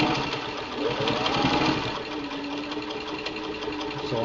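A Singer 15-91 Centennial direct gear driven sewing machine sewing a straight stitch through old denim pieces, a steady fast mechanical whir and clatter running continuously up close.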